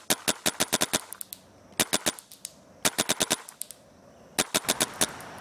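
Dangerous Power E1 paintball gun shooting fully automatic in quick bursts of sharp, snappy pops, four clusters of five to eight shots separated by short pauses, close and loud with no talking.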